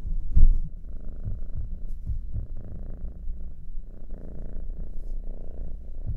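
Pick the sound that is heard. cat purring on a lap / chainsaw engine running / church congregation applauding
cat purring on a lap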